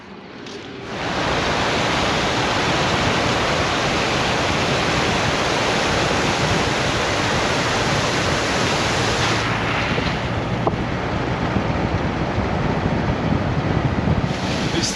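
A car drives through water flowing over an outback road in the wet season, steady loud rushing and spraying that fills the whole stretch, with a brief thin start and no talk.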